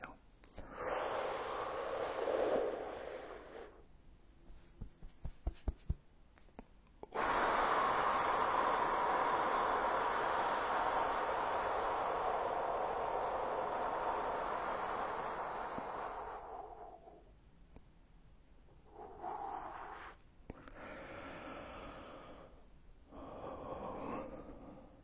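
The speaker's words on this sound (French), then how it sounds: "On inspire et on expire." Slow, deep breaths drawn in and let out, long airy inhales and exhales in a calm cycle, close and soft, separated by quiet gaps and a few small clicks.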